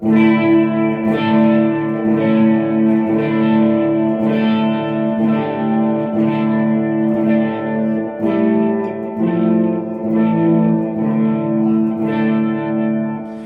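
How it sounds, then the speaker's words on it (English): Shoegaze electric guitar chords in standard tuning ring out one after another, thick with chorus, distortion and echo, sustained and loud with a slow steady change between voicings. "Let's have a listen to the chords as they change."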